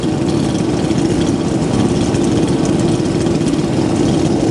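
A chainsaw with no bar fitted runs steadily after a cold start, a loud, close, continuous two-stroke drone at fast idle with no pauses or voices.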